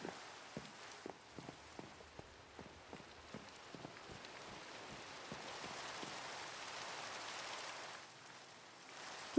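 Steady patter of rain falling in the game Minecraft, a dense continuous hiss with scattered droplet ticks, fairly quiet and alone, swelling slightly toward the end.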